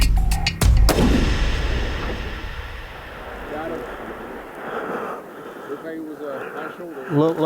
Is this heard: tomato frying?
no